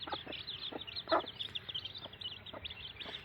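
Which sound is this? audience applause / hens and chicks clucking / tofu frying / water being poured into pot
hens and chicks clucking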